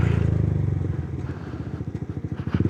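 Motorcycle fitted with an Akrapovic exhaust passing close on a smooth village road, a loud throbbing exhaust note with rapid pulsing beats that swells and rises as it flies by.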